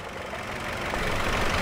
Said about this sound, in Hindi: बहुत बढ़िया है, इंजन स्टार्ट हो गया है